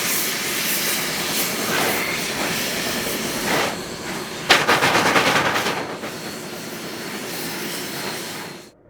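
A Rio Grande rotary snowplow train is pushed up a 4% snowy grade between Chama and Cumbres Pass, producing a loud, continuous roaring engine drone with a burst of rapid chuffing exhaust beats midway, alone without talk.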